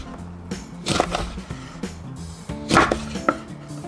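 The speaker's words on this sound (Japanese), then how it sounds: "まずレモンをカットしていきます。" Several sharp knife strikes slicing lemons against a cutting board, irregular and close, with small scraping sounds between the cuts.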